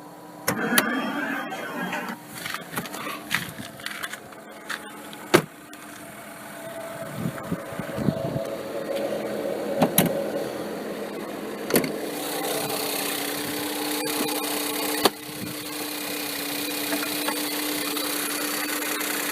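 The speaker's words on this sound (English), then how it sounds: "Two-liter turbocharged EcoBoost 4-cylinder. As you can see, it cold starts perfectly." A two-liter turbocharged EcoBoost four-cylinder engine cold starting, with scattered knocks and clatter before a steady idle hum settles in and continues at moderate loudness.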